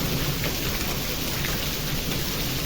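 Heavy rain and hail roar without a break in a summer storm with strong wind, a dense hiss of drops drumming hard on a surface throughout, loud and steady.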